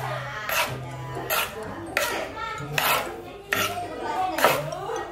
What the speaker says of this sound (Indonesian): Aduk ya hingga merata.